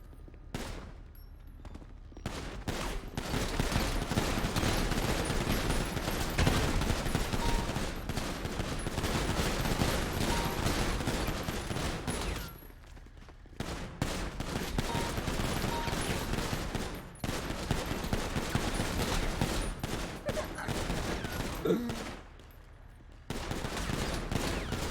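Sustained, dense gunfire in a video game while shooting at a zombie, long stretches of rapid automatic bursts with a few short breaks, loud and continuous throughout.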